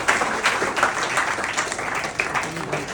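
Students at a session with NEET aspirants clap together, a dense, steady wash of applause lasting throughout without pause.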